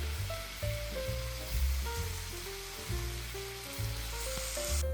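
Ground beef seasoned with black pepper, garlic powder and onion powder sizzles in a pan, a steady close hiss throughout, while low music pulses rhythmically beneath it.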